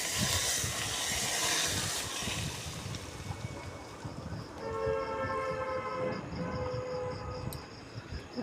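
A pressure cooker cooking mutton without water, hissing steadily at first and then letting out a sustained, tonal whistle in the latter half, fairly quiet overall.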